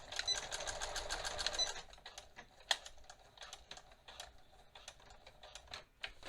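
A home sewing machine stitches bias tape onto a waistband facing in a short burst of rapid, even ticking, then stops and gives way to scattered clicks and handling taps, close and fairly quiet.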